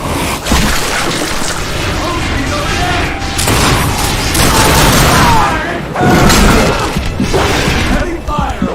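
Heavy in-game gunfire and explosions, with repeated loud booms, crashes and bursts of shooting in a chaotic, continuous barrage and voices shouting through it.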